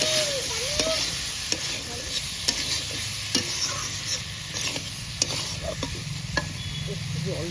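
Chopped tomatoes stirred and sizzling in a pan while being sautéed for a Bengali rohu fish curry with winter vegetables, with steady frying hiss and repeated spatula scrapes and taps throughout.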